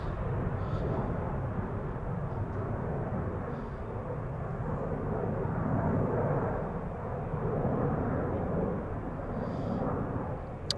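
A 20-year-old KLM Boeing 777-200ER departs Schiphol Airport, its jet engines a sustained, broad low roar heard from a distance, swelling and easing over several seconds.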